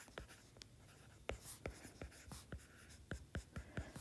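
Chalk or marker writes on a board during a math lecture on orthonormal functions, a series of sharp tapping and scratching strokes in an irregular rhythm, close and clear with no voices.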